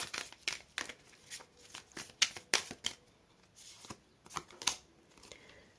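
Tarot cards being shuffled close by in quick riffling bursts, with short pauses between rounds and no talking.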